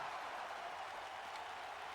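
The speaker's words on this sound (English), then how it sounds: "The crowd going wild, chanting for one more time." A wrestling crowd in WWE 2K19 roars in a steady, distant wash of cheering and chanting, continuous and fairly faint throughout.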